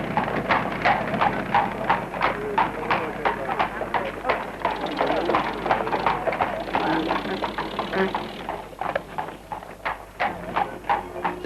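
Horse-drawn buses in London streets, hooves clip-clopping in a brisk steady rhythm on the roadway, close and prominent, with a low rumble of wheels and traffic underneath.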